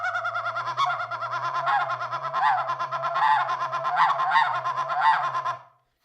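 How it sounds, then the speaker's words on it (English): A friction turkey call works through a soft murmuring feeding sequence, its rapid, rolling purrs and clucks held close and continuous for about five seconds before cutting off into silence. "It's a call that I like to use when they're right on top of you"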